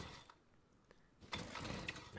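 Chainsaw in the video game Rust fails to start: a quiet pull or two with a short sputter, then a brief louder engine-like burst that dies away, with no speech.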